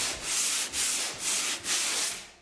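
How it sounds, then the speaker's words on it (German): Wood is sanded by hand at a building site, with four long rasping back-and-forth strokes in a steady rhythm, close and fairly loud, with no talking. "ich versuche jetzt noch ein bisschen zu schleifen"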